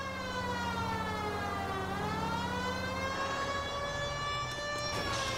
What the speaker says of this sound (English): Clearly, Siren is fucking on!